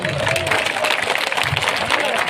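Audience at a Buddhist dhamma gathering claps loudly and steadily throughout, a dense broadband patter with some voices and crowd murmur mixed in.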